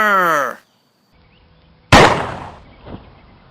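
A firing-squad volley goes off as one loud, sharp crack followed by a decaying rumble and a smaller pop, after a shouted command and a short silence.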